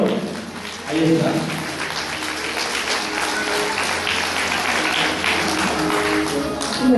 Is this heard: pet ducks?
no